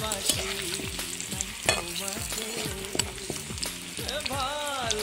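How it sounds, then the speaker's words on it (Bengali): Potatoes fry in hot oil in a pan, a steady sizzle with repeated scraping stirs of a spatula, close and continuous throughout. "আলুটা প্রায় ভাজা হয়ে এসছে, আর একটু নাড়াচাড়া দিয়ে আমরা একটা পাত্রে আলুটা তুলে নেব"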